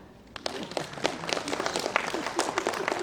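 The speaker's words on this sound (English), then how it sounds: "If you like this concept, you can clap." An audience at a talk on agronomy and crop breeding breaks into scattered clapping that builds into moderate applause, uneven and lively, with a few voices underneath.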